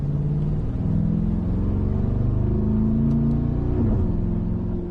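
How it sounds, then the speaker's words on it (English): A deep, throbbing V8 exhaust on a Mercedes-AMG G63 rumbles steadily up close, its low burble rising slightly in pitch as the engine pulls. "Just a lot of noise, a lot of V8 grumble"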